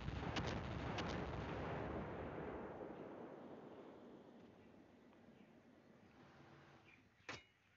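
Naval Creed warship battle: a dense roar of incoming gunfire and explosions pounding a ship, loud at first and slowly fading, with a couple of sharp impacts early on and one more distinct hit near the end.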